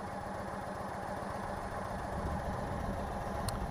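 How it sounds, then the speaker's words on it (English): Indian Chieftain motorcycle engine idling with a steady, low rumble that holds even throughout, close by, with no talk over it. "Give the old clutch a push, and I'll just let you hear a rumble."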